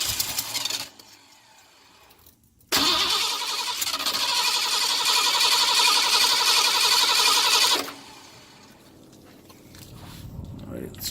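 A 1982 Ford 460 engine with practically no muffler cranks and catches, then roars loudly and raggedly for about five seconds before cutting out, with voices heard before and after.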